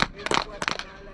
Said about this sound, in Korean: 저희가 친 박수 소리가 어딘가에 부딪혀서 다시 저희 귀 속에 돌아오는 메아리인데